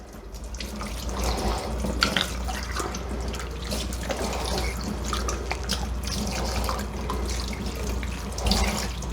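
Tap water runs steadily into a sink to rinse cleaned seafood, splashing and trickling continuously with small dripping and handling sounds throughout, heard close and without talk.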